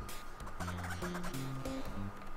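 Cartoonish quacking from attacking ducks in the Toejam & Earl video game, a short run of synthesized tonal honks over steady game background noise.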